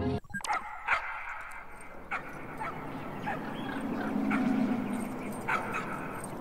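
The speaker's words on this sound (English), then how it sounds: "Cute little doggies." Small cartoon dogs in the video game Trover Saves the Universe yip, whimper and bark in short bursts over a low game soundscape, with a few sharp clicks near the start.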